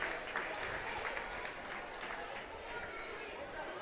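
A crowd at a girls high school basketball game applauds and cheers in a gym, a continuous wash of clapping and voices with talk over it.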